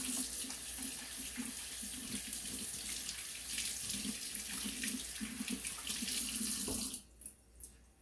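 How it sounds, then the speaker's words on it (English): Hands are washed under a running kitchen or bathroom tap, a steady close splashing stream with rubbing and spattering, until the water shuts off near the end and leaves a few drips. "we're going to start with washing our hands because we always need to wash our hands before we cook"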